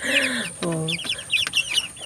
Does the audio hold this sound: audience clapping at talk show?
no